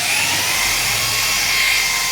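Electric drill runs continuously with a high, steady whine, close and loud, without pause for the whole stretch while a hole is drilled indoors for a home WiFi cable connection.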